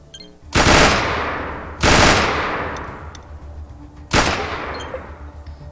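Three short bursts of gunfire from a pistol or submachine gun in the video game ATOM RPG, each a sharp loud rattle with a decaying tail, separated by pauses of about a second or two.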